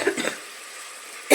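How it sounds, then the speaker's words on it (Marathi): A person with a cold coughs a few short, close times, then there is a brief quiet pause and another harsh cough at the end. "सॉरी, खोकला आहे जरा"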